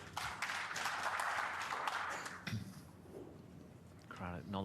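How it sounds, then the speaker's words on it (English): A snooker crowd at the Riyadh Season Masters 2024 semi-final applauds a good recovery shot: a sustained patter of clapping for a couple of seconds that fades, then a voice begins speaking. "Crowd acknowledging another good recovery shot"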